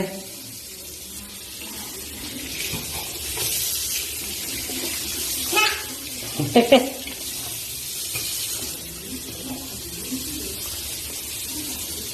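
Tap water runs steadily while hands are washed with a bar of soap at a sink, with a few brief splashes and soft clatters partway through.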